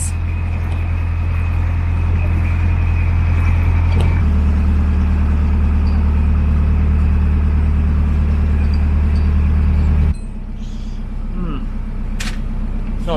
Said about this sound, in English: We've just the engine just started making a noise.